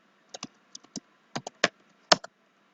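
Typing on a computer keyboard: sparse, irregular key taps and clicks, close and crisp, with a louder strike near the end and no voices.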